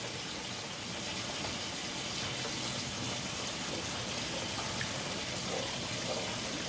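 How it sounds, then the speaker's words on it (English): Water is poured steadily into a pan of smothered chicken to make gravy, a continuous soft rushing hiss that holds evenly throughout with no talking. "Just going to start adding the water."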